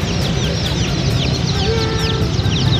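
Baby chicks peep in a dense, continuous chorus of high, rapid cheeps, close and loud over a steady background hum, with no talking.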